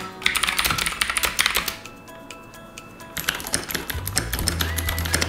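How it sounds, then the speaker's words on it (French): Fast typing on a custom-built keyboard with internal foam, a dense run of crisp clicking keystrokes close up, pausing briefly midway before resuming, with faint hum underneath. "Je me rends compte de la différence entre un clavier que tu construis toi et un clavier que tu trouves au magasin"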